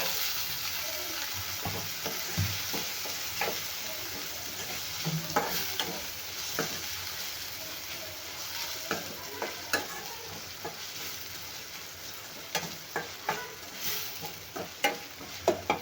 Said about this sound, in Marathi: टोमॅटो पण छान तेलामध्ये आपल्याला परतून घ्यायचा आहे